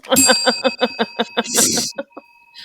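A small bell dings in a quick, evenly spaced series of bright, ringing strikes up close, followed by a louder clattering burst and a few fading rings.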